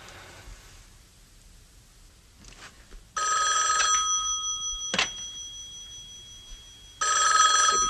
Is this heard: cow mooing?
no